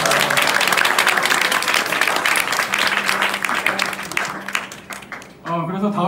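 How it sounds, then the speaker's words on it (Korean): Concert audience at a show in Rolling Hall, Seoul, clapping loudly and continuously with some cheering, before a voice briefly speaks over the tail end. "그래서 예, 박수."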